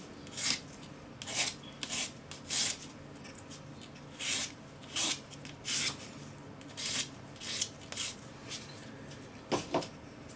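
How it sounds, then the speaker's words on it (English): Fine silver leaf sanded with 400 grade sandpaper on a sanding stick, short scratchy rasping strokes repeated in an irregular rhythm, close and fairly quiet with pauses between passes. "Then 400 grade sandpaper on your sanding stick."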